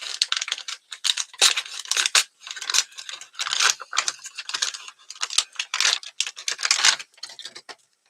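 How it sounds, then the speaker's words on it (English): A vacuum-packed package is torn and pulled open, giving bursts of crinkling, rustling plastic and tearing at close range with brief pauses between, no voices present. "Vacuum packed, so take a little bit of opening."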